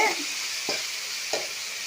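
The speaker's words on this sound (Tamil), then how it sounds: "கிண்டி விட்டு இப்போ டொம தக்காளி சேர்த்துக்கலாம்" Tomatoes and garlic stir-frying in a pan, a steady broad sizzle with two soft scrapes of a spoon stirring through it, close and alone with no voices.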